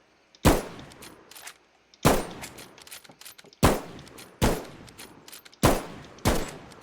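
Loud gunshots from the video game Bigfoot, fired singly in an irregular series of about six sharp cracks, each with a short decaying tail, with faint background noise between shots and no talk.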